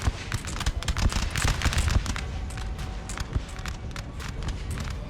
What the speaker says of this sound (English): Yeah, a couple of 12-pounders.